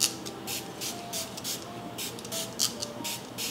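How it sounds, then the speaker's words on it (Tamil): Smashbox setting spray misted onto a face, about a dozen short airy hissing pumps in a quick, uneven rhythm, close and fairly soft, alone. "ஸ்மாஷ் பாக்ஸோட set and refresh spray use பண்ணுறேன்."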